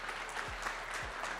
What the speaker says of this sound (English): Give this man a round of a friggin' applause.